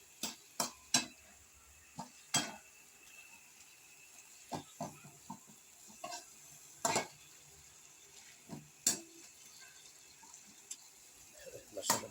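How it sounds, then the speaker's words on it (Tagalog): Sharp clinks and scrapes of a utensil against a pan of sautéing pork for pakbet over a faint sizzle, scattered irregularly, with quiet talk now and then. "Saugan natin ang baboy"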